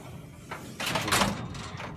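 The flip-up top door of a five-drawer 42-inch lateral file cabinet swings open with a brief scraping metal rub and clunk, close and moderately loud.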